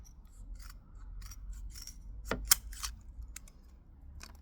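Cutting a mounting tab for a Freelander 2 headlight repair: a few sharp, close snips and crisp cuts scattered over a quiet background, with no talking.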